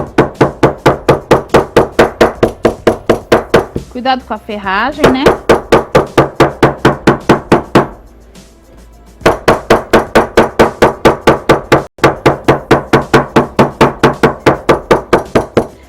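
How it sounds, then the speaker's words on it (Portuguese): A small hammer taps steadily and quickly against fabric, with a brief pause partway through; a voice speaks briefly over the tapping. "eu passar o martelinho, bater"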